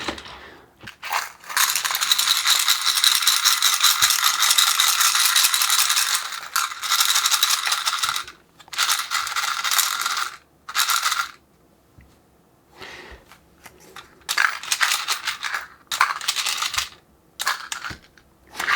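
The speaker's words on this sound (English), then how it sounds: "we could potentially use this just by repeatedly dropping in a pinch of screws as we go" Screws drop and rattle inside a simple screw counter, giving loud, close metallic clattering in long bursts and shorter clicks, with quiet gaps between.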